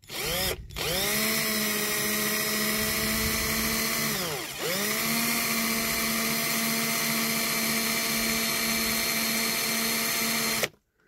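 A power drill whines loudly and steadily while drilling a diecast Dinky Toys Triumph 1300 model, pausing briefly near the start and again midway before spinning back up, then stopping at the end.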